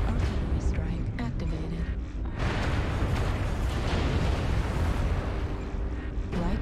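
An artillery strike in a MechWarrior video game sets off a heavy, rumbling barrage that starts partway through and keeps booming loud and sustained, with voices talking alongside.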